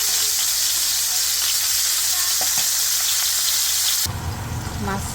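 Frozen fish fries lightly in oil with a steady, close, rain-like sizzle that shifts to a heavier, fuller crackle for the last second.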